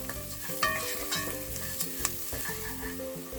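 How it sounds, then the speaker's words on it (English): Orzo pasta sautés with softened onion and carrots for Egyptian bird's tongue soup, a steady close sizzle and crackle with occasional stirring clinks and scrapes, no voices. "I'm going to add the pasta and saute it until it gets a golden color."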